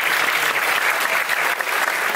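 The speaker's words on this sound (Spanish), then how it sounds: "un fuerte aplauso para José Miguel." Audience applause for José Miguel at a Zrii business event, a dense steady burst of many hands clapping together, close and fairly loud throughout with no voices over it.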